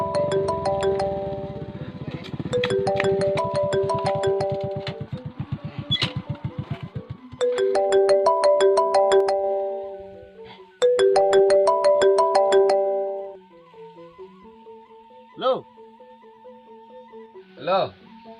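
A phone's musical ringtone chimes out in repeated melodic bursts, loud and close, announcing an incoming call, with pauses between rings and a few brief sounds near the end.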